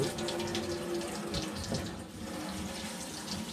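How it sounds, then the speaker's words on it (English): A faucet runs steadily as hardy winter-foraged bracket-type mushrooms are rinsed under it at a kitchen sink, a continuous close splashing water stream with slight shifts in flow and no talking. "They can be rinsed under the tap."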